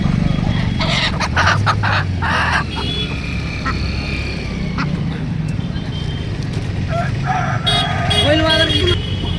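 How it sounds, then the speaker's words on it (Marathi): Poultry at a Saturday market in Chakan selling ducks and country chickens and roosters: scattered bird squawks and clucks break through a constant crowd din, with brief noisy bursts near the start and end. "बदक आहे, गावरांची कोंबडा आहे."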